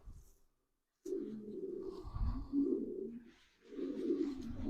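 Pigeons coo close by in low, throaty rolling calls, a few phrases repeated after a brief silence.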